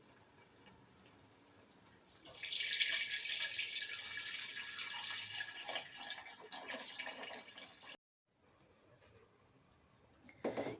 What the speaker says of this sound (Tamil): இப்போ நான் மூணு கப்பு அரிசி எடுத்திருக்கேன் அதுக்கு நாலரை கப்பு தண்ணி சேர்த்துக்கலாம்